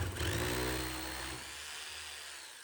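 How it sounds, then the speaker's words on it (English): A hammer drill grinds into a stucco wall at close range, a rough buzzing burst that eases to a lower, steadier drone. "I use my hammer drill and mark the center of the hole"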